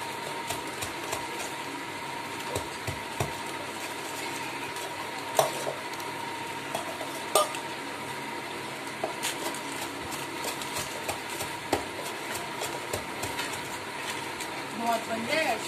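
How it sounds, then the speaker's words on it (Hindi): A spoon working batter in a sizzling pan, a steady fry hiss with scattered light scrapes and taps of metal, while someone talks over it at times. "और नीचे आवाज जाएगा जब चम्मच लेके हाके इसमें डाल"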